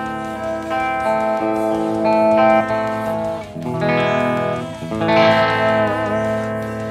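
Clean channel of a Blackstar Series One 104 6L6 tube amp played with a Korean-made Schecter Banshee 6FR guitar fitted with EMG 81 and 85 pickups: ringing sustained chords with shimmering effects, steady and close, no talking.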